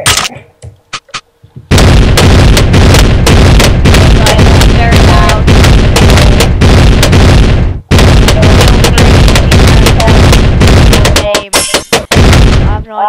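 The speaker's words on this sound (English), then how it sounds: "I'm gonna get a bomb tower." Bomb tower explosions from the Bloons Tower Defense 5 video game, a loud, dense barrage of overlapping blasts and pops that runs almost continuously, broken by one brief gap and thinning out near the end.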